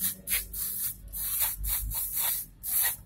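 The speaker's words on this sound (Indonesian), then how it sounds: "Kita akan semprot pakai SCP." SCP cleaner sprayed onto Yamaha Mio motorcycle engine parts during an overhaul, heard as a series of short, close hissing bursts in an uneven rhythm, with no talking.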